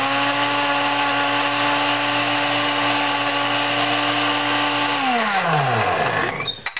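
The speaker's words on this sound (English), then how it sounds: "I meant the Ninja Blender." A Ninja blender whirs steadily at a high, even pitch while blending bananas, then its motor winds down and stops near the end, loud and close with no talk.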